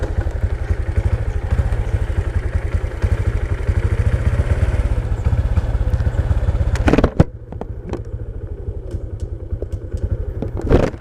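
A Honda Supra X 125 manual-clutch motorcycle rides along, its engine a steady close putter that drops in level partway through, followed by a few sharp clicks and clatters.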